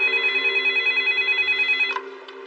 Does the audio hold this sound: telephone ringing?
yes